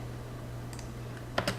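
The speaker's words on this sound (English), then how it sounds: "I'm just making it a little easier to find by typing in some keywords here" Keys on a computer keyboard clatter in a short burst near the end, a few quick taps after a couple of lighter clicks, close and clear over a steady low hum.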